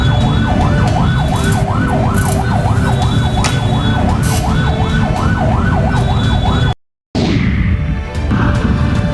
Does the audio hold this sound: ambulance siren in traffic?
yes